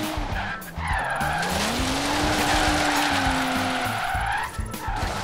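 Tires squeal in a long, loud, continuous skid as a car drifts in Forza Horizon 3, the pitch bending up and down over a steady engine drone, with a brief break before the slide resumes.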